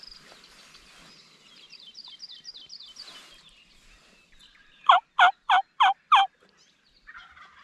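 Wild turkey gobbling in Hawaii, a clear rapid five-note gobble from a bird fairly near, following quieter bird chirps in the background.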